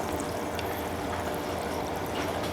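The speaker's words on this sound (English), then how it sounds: "So you should hear bubbling" Fermenting homemade Korean makgeolli rice wine fizzes and bubbles as it is stirred, a steady dense hiss of liquid close to the microphone with no break.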